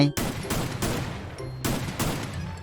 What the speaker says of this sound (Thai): วันนี้ผมก็จะมาเล่นปืน AC80 เหมือนกันนะผม ปืนที่นักแข่งเขาชอบเล่นกัน